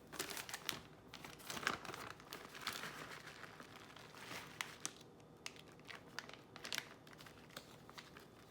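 A plastic bag of shredded cheese crinkles and rustles continuously and up close as it is shaken out over macaroni for mac and cheese.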